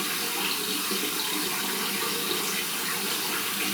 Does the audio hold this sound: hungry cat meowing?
no